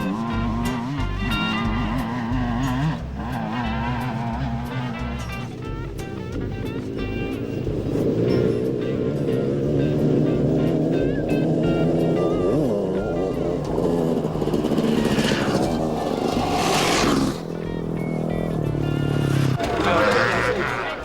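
A KTM 300 enduro motorcycle racing on a stage of a 1997 rally event, its two-stroke engine revving hard and continuously throughout, loud and close, with a commentator's voice running over it.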